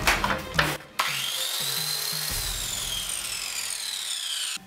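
A Vega VC-2100 circular saw switches on with no soft start, jumping straight to a loud, steady high whine after a few clicks, running for several seconds before cutting off abruptly.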